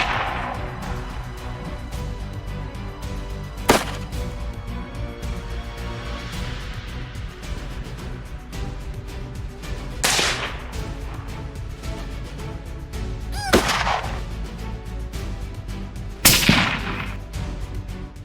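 Four sharp rifle shots ring out during bobcat hunting, spaced several seconds apart, each a loud crack with a brief echoing tail over a steady music bed.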